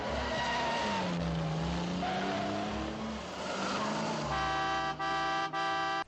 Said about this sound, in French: Comme par exemple des filatures entre Aston Martin et voitures de luxe.